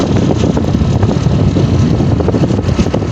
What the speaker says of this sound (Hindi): बहुत प्यारी और ठंडी हवा चल रही है